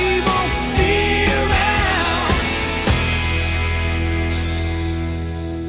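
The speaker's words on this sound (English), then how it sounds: "And the last sound you hear in the song is actually the cymbal." Dense full-band music from a rock ballad with thumping drum hits, ending in a sustained cymbal wash that rings out bright and slowly fades at the close.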